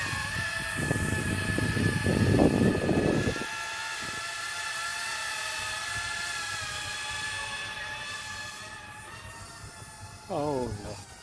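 Small S156 RC helicopter in a flight test on a windy day, its steady high-pitched rotor and motor whine running throughout, with a louder burst of broadband noise early on and a brief voice near the end.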